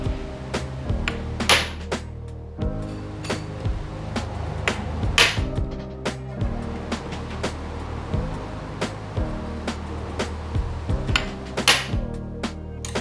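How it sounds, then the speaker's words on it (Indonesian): Three oil cover bolts tightened on an engine during oil pump work, giving a run of sharp metallic clicks and clinks in an irregular rhythm, close up, over a low steady hum. "tinggal ngencengin yang baut 3 ini yang untuk tutup oli nih"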